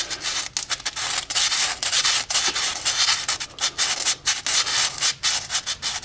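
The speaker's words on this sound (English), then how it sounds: "Let me try sanding with my left hand." A part on a 2008 Trailblazer being sanded by hand, with loud close scraping strokes repeating in an uneven back-and-forth rhythm, alone without talk.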